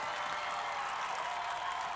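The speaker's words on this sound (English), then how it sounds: "and the crowd going crazy" A large crowd roars and cheers at a Sasuke American obstacle course event, a steady wash of distant, sustained noise with no clear breaks across the whole stretch.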